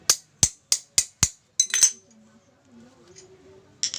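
Five sharp metallic taps in an even rhythm as an AC copper pipe flaring tool is struck, followed by a brief clatter, then quiet handling noises and a faint later knock.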